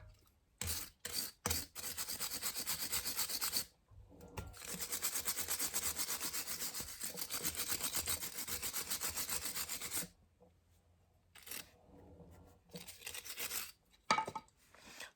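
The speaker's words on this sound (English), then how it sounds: "I'm using a wire brush to clean this" Wire brush scrubbing the pulley of a Lister D stationary engine during restoration, heard as sustained close, loud rasping strokes in long bursts with pauses between.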